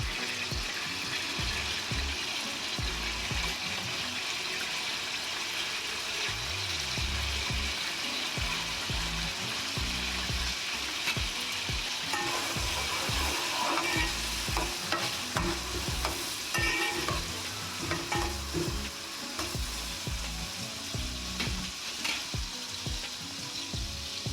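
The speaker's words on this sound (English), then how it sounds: "now I'm just going to stir it just a little bit, just to see how it's doing" A vegetarian prawn and paneer stir fry with braising spice sizzles steadily in a pan, with repeated scraping and clattering from stirring that grows busier midway.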